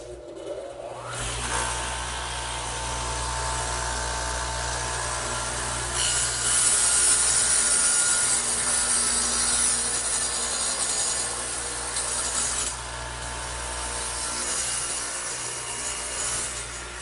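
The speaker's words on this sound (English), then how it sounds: "I'm going to do that to this piece right here over on the radial arm saw, which again has the dado head in it" Radial arm saw fitted with a dado head cutting a dado into a vertical wooden piece, a steady loud whine and rasping cut that holds for most of the stretch, swelling slightly mid-pass, with no talk.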